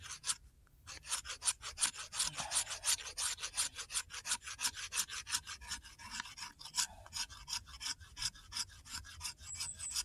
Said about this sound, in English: So I'm using the spine of the knife to shave this fatwood off.